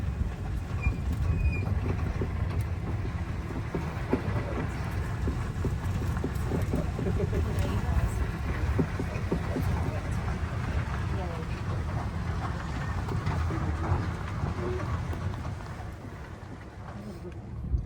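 Museum tram rolling through the outdoor grounds of the Pima Air and Space Museum in Tucson, Arizona, a steady low rumble under a guide's ongoing narration.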